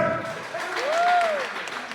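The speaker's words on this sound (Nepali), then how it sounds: "तपाईँले ताली बजाउनु भयो है" Audience clapping at a college semifinal competition, a steady, moderately loud patter of applause filling the room for about two seconds, with a faint tonal whistle-like sweep rising and falling through the middle.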